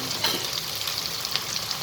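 Vegetable upma with green peas, carrot, turmeric, red chilli and coriander-cumin powder being stirred in a pan, giving a steady soft sizzle with faint scraping strokes throughout.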